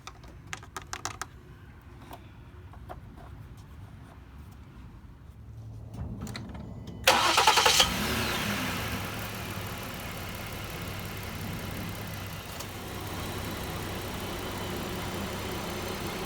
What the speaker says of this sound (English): we're actually going to run the engine for about 20 seconds to get the oil to move